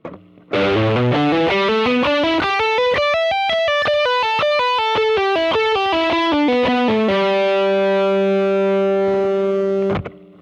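Distorted electric guitar runs a fast ascending and descending three-note-per-string pentatonic lick with effects, then holds a sustained ringing note before cutting off.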